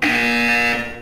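A video game buzzer from Portal 2 sounds as one steady, loud electronic tone lasting about a second, heard alone before fading slightly at the end.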